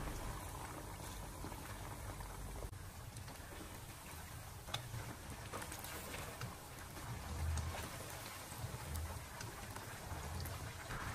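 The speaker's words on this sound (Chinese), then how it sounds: "油温不变，给它一直的保持中火炸制，大概4到5分钟，把鱼块炸至表面金黄酥脆" Pieces of fish deep-fry in a wok of oil over medium heat, giving off a faint, even bubbling and crackling that continues without pause, with no one talking.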